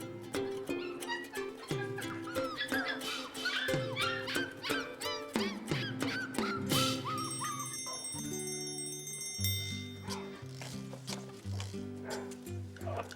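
Young puppies whimpering, yipping and whining in a busy run of high, wavering cries, fairly close, with a background of music-like tones through much of it.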